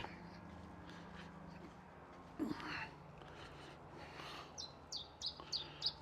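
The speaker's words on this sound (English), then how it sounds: "Nice birds." Small birds chirp and tweet in short, high bursts in Adeje, the calls growing more frequent toward the end against a quiet outdoor background.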